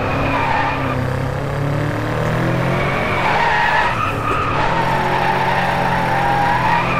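A DriveClub racing game car slides fully sideways, tires squealing continuously over engine drone with shifting pitch, loud and sustained throughout.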